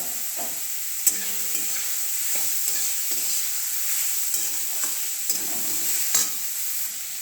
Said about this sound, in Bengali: দেখো ভাজা হচ্ছে ফুলকপি